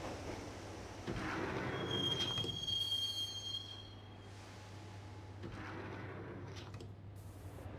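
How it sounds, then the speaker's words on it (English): Train interior rumble in the Max Payne video game, with a brief high wheel squeal, then a steady low drone of the carriage rolling along; no voices. "The train doors had already shut behind me, and I was in for the ride."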